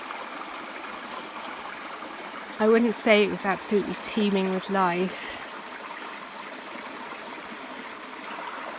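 Steady flowing creek water with a soft, continuous trickle, and someone talking briefly over it midway.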